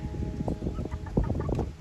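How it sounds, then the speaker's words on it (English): Chickens on a Newfoundland homestead cluck in a busy, overlapping flock while pecking at caterpillars, with short close calls coming steadily throughout. "they love the caterpillars, the chickens do"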